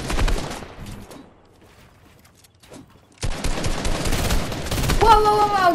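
Video game gunfire aimed at the player, bursts of rapid shots early and again in the second half after a quiet gap, fairly loud and close.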